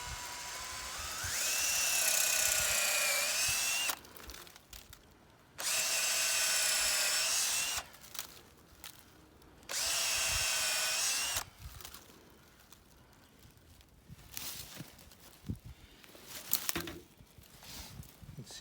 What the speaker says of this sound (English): This is what I use to drill holes into the maple trees.